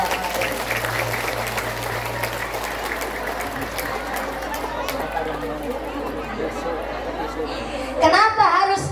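Audience applause fills a women's Islamic religious gathering hall in Purbasana, Tarub, with steady clapping and crowd chatter throughout, rising briefly near the end.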